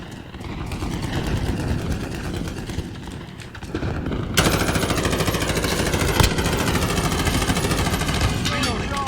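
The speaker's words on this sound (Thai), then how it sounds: "มันยิงมาแล้วมันยิงมาแล้ว" Rapid sustained gunfire in Call of Duty: Modern Warfare, dense automatic bursts mixed with engine rumble near a tank, loud and continuous, growing heavier partway through.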